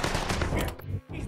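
Gunshots in Mafia III, a brief burst of rapid shots mixed with game noise that cuts off sharply near the end.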